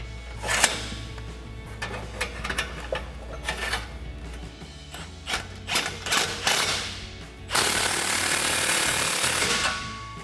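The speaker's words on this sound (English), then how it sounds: "now we can go back with our 15mm socket and tighten down our clamp" Rapid metallic ratcheting and clicks from a 15mm socket wrench tightening an exhaust clamp on a 2015-2020 Ford F-150 4-inch single exhaust, close and irregular, ending in a steady broadband whir.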